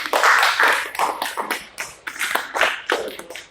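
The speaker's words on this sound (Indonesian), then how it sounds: "Tepuk tangan untuk kelompok 2." Classroom group claps for group 2 after a fiber optic connector demonstration during a teaching performance exam, a fairly close burst of hand claps that thins into scattered, uneven claps.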